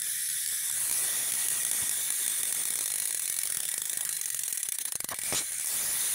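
A freshly cleaned and repaired bicycle hub ratchets loudly up close, its clicks running together into a fast continuous buzz with a steady hiss and no voices.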